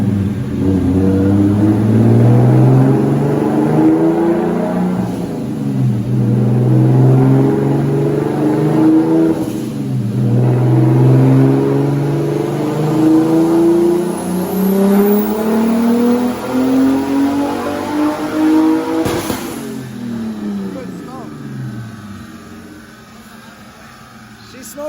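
A turbocharged BMW E34 engine on a dyno revs hard in repeated rising pulls, a loud sweeping roar climbing in pitch, dropping off, and climbing again before a final fade.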